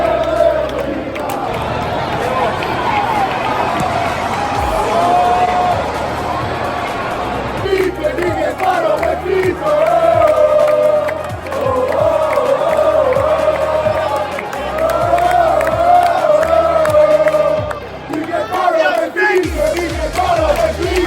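A stadium crowd at Red Bull Arena during a Fiorentina vs. Benfica soccer match, tied 1-1 late in the game, chants and cheers loudly and continuously in rhythmic waves, with steady low pulses beneath the massed voices.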